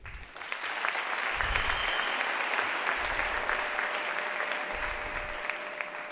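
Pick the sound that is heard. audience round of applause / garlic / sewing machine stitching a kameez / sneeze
audience round of applause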